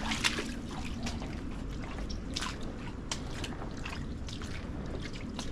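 Water trickling and splashing along a creek in a tunnel beneath a city, a steady close babble with scattered brighter drips and splashes throughout.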